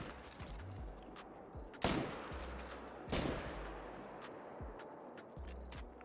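Rifle fire from the hunting game Call of the Wild, a fast-firing 4.8-class rifle with almost no recoil: two sharp shots stand out about a second apart, followed by fainter thuds against quiet background ambience.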